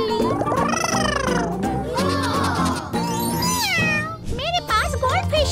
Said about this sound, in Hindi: और अब मेरी बिल्ली।